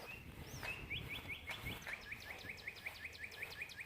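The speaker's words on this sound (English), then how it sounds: "All them chirpity birds." Faint outdoor birdsong with a rapid series of short, repeated high chirps from a small bird, set against quiet background hiss.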